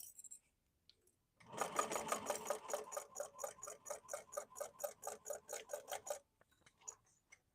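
A sewing machine stitches a tote bag with a shaker pocket in one steady, rapid run of needle clatter lasting about five seconds, with quiet before and after and no talking.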